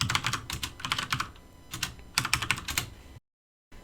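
Fingers type on a computer keyboard in close, rapid clattering bursts with short pauses between runs, ending in a brief silence.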